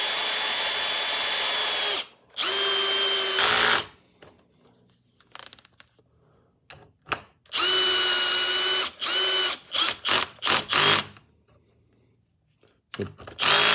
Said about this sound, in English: And let's put these lag bolts in,